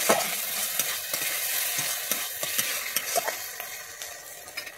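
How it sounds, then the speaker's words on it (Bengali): Egg dopiaza masala fries in ghee in a pan with a steady sizzle, while a spatula stirs and scrapes in a regular rhythm of soft knocks. No one speaks. "ঘিটা দিয়ে আমি এখানে আরেকটু কষিয়ে নিচ্ছি।"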